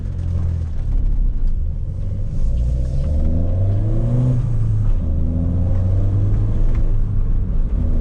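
A Peugeot 208 GTI 200 HP with an Akrapovic exhaust, its engine droning and revving close by, a deep, steady rumble whose pitch rises and falls in several sweeping surges.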